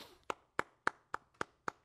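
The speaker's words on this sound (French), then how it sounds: "on mérite tous une main d'applaudissement" Two podcast hosts clap their hands in a slow, even rhythm, six crisp, close claps spaced about a quarter second apart in an otherwise quiet room.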